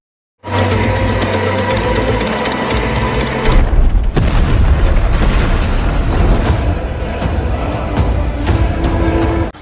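A farmhouse explosion: a loud, rumbling blast hits partway through, followed by sustained roaring and crackling debris noise over a steady low-frequency rumble.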